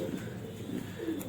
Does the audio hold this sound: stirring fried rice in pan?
no